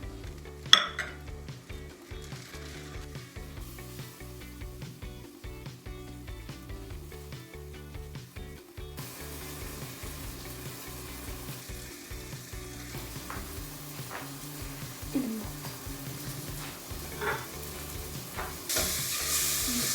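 Roasted eggplant tipped into a soup pot on low heat, a quiet steady sizzle with spoon scraping and clinking against the pot as it is stirred.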